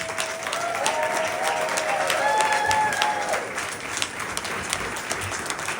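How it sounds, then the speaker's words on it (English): Sustained audience applause fills the room at a Saturday morning breakfast cereal stage show, dense clapping with some whistles and cheers, steady and fairly loud throughout. "please give her a round of applause"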